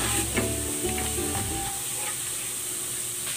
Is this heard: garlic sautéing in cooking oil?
yes